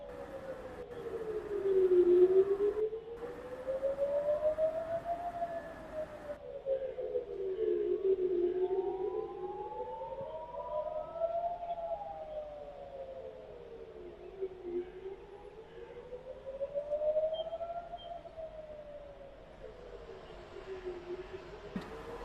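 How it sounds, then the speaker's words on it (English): Air-raid alert sirens wail across a city during a widespread multi-city alert, a slow rising and falling tone that swells and fades repeatedly, sounding distant and steady with no talk over it. "We have sirens, ladies and gentlemen."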